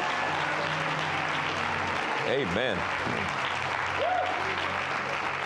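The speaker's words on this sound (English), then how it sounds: "Would you give the Lord a big hand clap before you take your seats?" A church congregation at a Wednesday service claps hands steadily in a broad, even wash of applause, with a voice briefly calling out over it.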